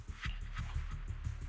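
A puppy in the video game Zenless Zone Zero whimpers and yips in a quick run of soft, close cries, heard alone without talk.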